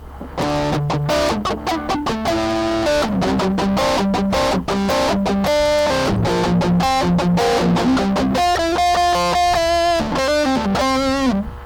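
An electric guitar plays through the amp 9 preset of an MEFCS multi-effects unit with distortion, chords and picked riffs that are loud and gritty, with sustained notes and some choppy rhythmic strums.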